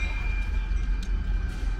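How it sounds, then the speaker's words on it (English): SD40 diesel locomotives haul a moving train past at close range, giving a steady, loud rumble with high metallic tones running through it and no voices. "we watch these SD40s go by"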